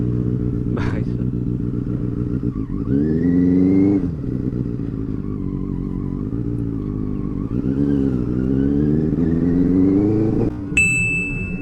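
A Benelli 600i superbike engine is started and revved outdoors, its loud close roar climbing and falling in repeated throttle blips over a steady idle, ending with a sharp high ding.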